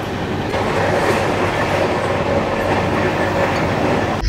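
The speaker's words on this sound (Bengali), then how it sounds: "ট্রেন মারাত্মক স্পিডে যাচ্ছে, জাস্ট মারাত্মক, 130 কিলোমিটার ফ্ল্যাট।" An LHB Kumbha Express train runs at about 130 km/h, heard from inside as a loud, continuous rolling roar with rail clatter running steadily underneath throughout.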